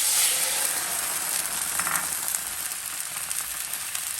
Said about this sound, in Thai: ผัดพริกแกงนะคะ พอพริกแกงเราเริ่มหอมแล้วหยอดน้ำไปหน่อย